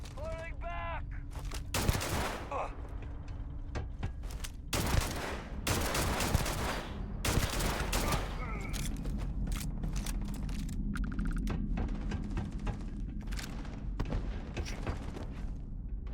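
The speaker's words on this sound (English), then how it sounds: "Lots of explosions going off inside." Bursts of gunfire and sharp explosive booms in Starfield crack repeatedly over a steady rumble of game noise, loud and close, in uneven clusters.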